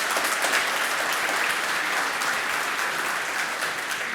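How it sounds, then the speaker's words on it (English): A large conference audience at a New York tech keynote claps steadily for a presenter after a software demo, a broad, even wash of applause with no voices over it. "A big round of applause for Daren."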